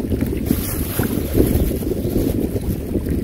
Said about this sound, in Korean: 바람이 아, 너무 많이 부는데